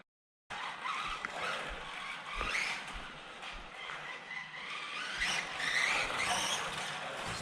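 A vintage Tamiya 1/10 scale radio-controlled Porsche 908 races about, its small electric motor whining at a steady high pitch with rising and falling surges and faint tire scuffs, continuous throughout.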